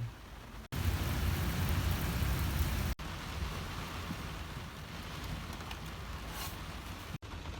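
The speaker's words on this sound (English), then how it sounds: "it's like a legit thunderstorm, and we got thunder every couple of seconds" A thunderstorm on a road trip brings steady, fairly loud rain with a broad continuous rushing wash and low rumbling underneath, briefly cut by short gaps.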